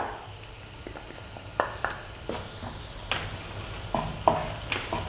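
Ginger, garlic, green chili and small onions sauté in hot oil, with a steady low sizzle broken by several sharp scrapes and clanks of a spoon stirring against the pan.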